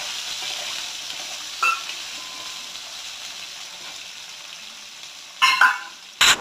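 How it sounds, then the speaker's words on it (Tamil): Shallots, garlic and dried berries sizzle steadily in hot oil for a garlic curry, with a continuous frying hiss and a few sharper stirring scrapes near the end. "எண்ணெயோடு சேர்ந்து பூண்டு, எண்ணெய், சுண்டவத்தல், வெங்காயம் எல்லாம் சேர்ந்து வதக்கி எடுத்துக்கணும்"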